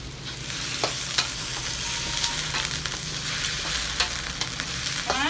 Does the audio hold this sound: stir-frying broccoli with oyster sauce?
yes